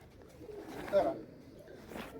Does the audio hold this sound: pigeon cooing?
yes